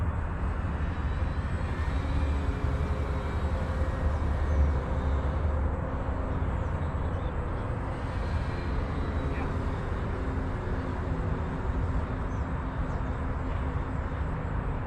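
A Dynam Waco 50-inch RC biplane flies maneuvers overhead, its electric motor drone rising and fading in pitch as it passes, over steady outdoor background noise, with no talking.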